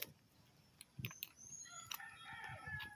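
A rooster crows in the distance, faint against quiet garden background with a few soft clucks and knocks nearby.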